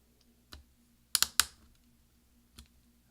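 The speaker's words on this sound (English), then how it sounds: "we're going to push down with our finger until we hear several snaps" A replacement V key on a 13-inch MacBook Pro Unibody Core 2 Duo is pressed into place, giving a tight cluster of sharp plastic snaps amid a few softer isolated taps, close and quiet otherwise.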